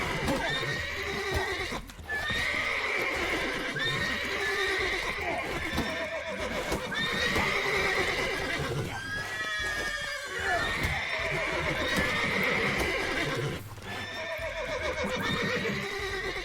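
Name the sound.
spooked horses neighing, The Witcher 3 video game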